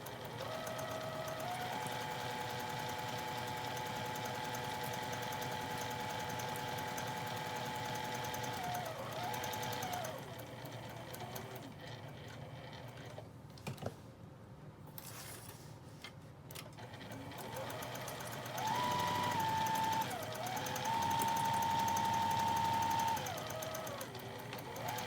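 A sewing machine stitching the seam of a mesh produce bag, its steady motor hum running in long passes with a short pause midway, quiet and close.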